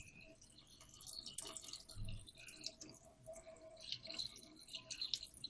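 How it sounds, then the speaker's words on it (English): Water trickles and drips out of opened tomatoes as they drain, with quiet, uneven close-up drips and splashes and one soft low thump. "So I just open it up and I let all this water drain out."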